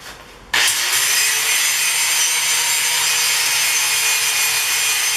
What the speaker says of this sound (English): I'm just taking my angle grinder and trying to trim up the backs of the head here